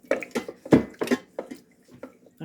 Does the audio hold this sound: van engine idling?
no